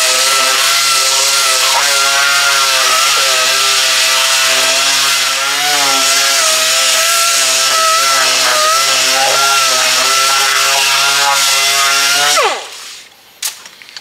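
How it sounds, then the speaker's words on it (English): A DA sander strips plastic coating from a solid body electric guitar in a loud, continuous whirring buzz with slight pitch wobbles, then cuts off abruptly near the end, leaving a few faint knocks. "by using our DA sander on our guitar to remove that plastic coating"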